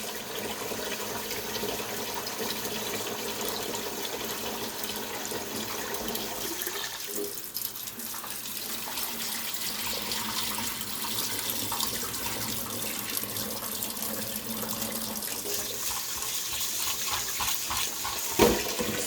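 Tap water runs steadily into a kitchen sink while rice is rinsed, a continuous close splashing stream with a few brief dips in flow and no talking.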